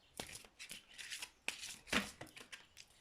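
Tarot cards are shuffled by hand in quick riffling bursts, close and quiet, with short papery slaps and pauses between each pass, without talking.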